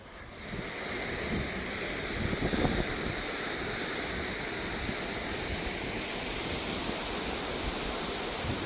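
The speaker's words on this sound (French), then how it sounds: "Là, il y a un gros torrent, mais il y a un pont" A large mountain torrent in the Alps rushes near a footbridge as a steady, dense roar of water, close and continuous, with a brief swell of splashing a couple of seconds in.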